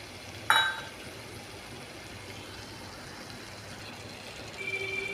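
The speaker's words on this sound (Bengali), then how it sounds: "এবার আমি দইটা ছেড়ে দেব।" Yogurt added to frying katla fish curry masala hits the hot pan with a sharp splash, then settles into a soft, even sizzle that runs steadily and grows slightly louder near the end.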